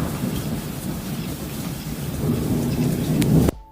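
AI-generated rain sound effect: a steady downpour with a low rumbling undertone like distant thunder, swelling a little before cutting off abruptly near the end.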